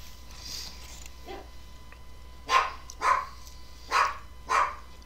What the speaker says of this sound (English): I apologize, that is my dog barking